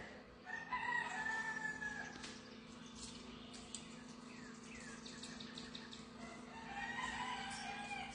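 A rooster crows twice at sunrise, faint and distant, with a steady low hum and outdoor ambience underneath.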